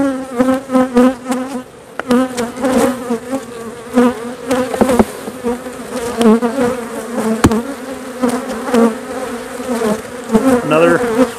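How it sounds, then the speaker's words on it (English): Honeybees buzz steadily and loudly around heavy, capped frames of honey pulled from a hive super during harvest, with a thick, close drone whose pitch wavers as insects move near and away. "There's a few of these last remaining bees off of here."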